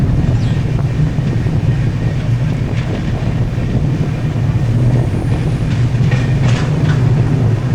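Sleeper-class train travelling from Varkala to Kanyakumari in Kerala, with a steady, loud rumble of the moving carriage and some wind buffeting the microphone throughout.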